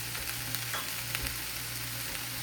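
Vegetables are stirred in a hot pan with dry red chili, coriander-cumin powder and salt. A constant close frying hiss carries light scraping stir strokes, with no voices.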